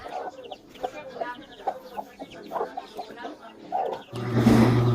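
Soft clucking and chirping from a hen and chicks, scattered short calls throughout, then a sudden burst of louder rustling noise at the end.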